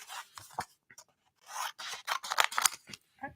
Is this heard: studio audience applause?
no